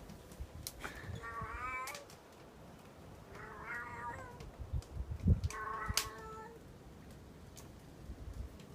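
A cat meows in three drawn-out, rising cries spaced a few seconds apart on a cold snowy day outdoors, with a soft thump between them over a low, steady background rumble.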